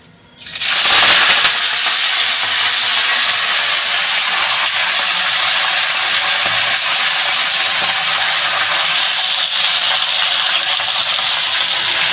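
Washed spinach and vegetables hit a hot pan with a sudden loud sizzle that settles into a strong, steady frying hiss lasting several seconds, close and alone.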